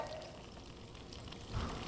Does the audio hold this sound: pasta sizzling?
yes